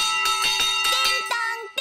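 A big bell on a cartoon fire engine rings in rapid repeated clangs, bright and close, with rhythmic strokes that stop abruptly before a last single hit.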